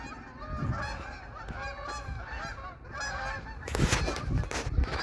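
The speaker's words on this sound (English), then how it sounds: "these gulls are going nuts today" A crowd of gulls at a nature center calls loudly and without pause, with harsh overlapping honking cries from several birds close by outdoors. The noise swells into a louder burst near the end.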